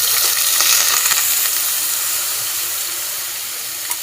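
Ground onion paste, added with cumin seeds to hot oil for a prawn tamarind curry, sizzles and hisses steadily and loudly close up, easing slightly toward the end.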